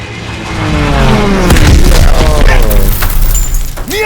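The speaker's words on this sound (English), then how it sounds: "Stukas, inbound." Stuka dive bombers attacking in a World War II video game, a loud rising engine roar with heavy booming blasts and rumble, and voices shouting over the chaos.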